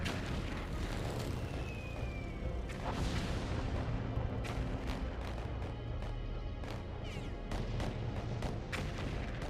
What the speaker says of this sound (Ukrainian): на цій ділянці фронту дуже прицільно працює арта